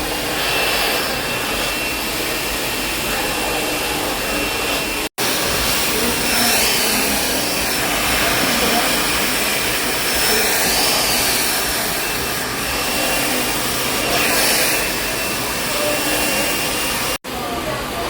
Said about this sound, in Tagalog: Tapos na siyang i-blower.